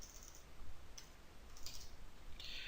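Keystrokes on a computer keyboard, a few soft scattered clicks over a quiet low hum, entering a command at a terminal.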